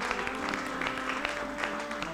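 A contest audience claps steadily for two eliminated contestants. The applause is dense and continuous but fairly quiet and distant, with no talking over it.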